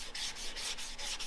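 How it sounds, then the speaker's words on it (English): Sandpaper and water rub back and forth on a car grill in steady, even strokes, about six close scrubbing passes in quick rhythm with no talking. "The water cleans out your paper. That's the nice thing about wet sanding."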